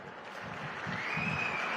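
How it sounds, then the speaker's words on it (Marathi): A crowd at a political rally claps together, dense steady applause, fairly loud, lasting the whole short stretch with no break. "एकदा जोरदार पुन्हा टाळ्या वाजवायच्या एकदा सगळ्यांनी।"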